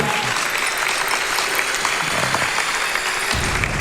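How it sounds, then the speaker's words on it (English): Audience applause at a charity speedrun event, a dense, steady wash of clapping from a crowd sustained throughout at moderate loudness. "Let's give it up for Crane one more time, guys"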